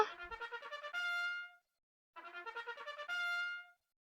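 A musician's horn sounds in the Roblox game Guts and Blackpowder, heard twice as a bright, reedy bugle-like phrase. Each phrase runs from quick pulsed notes into a held final note, with a short silence between them.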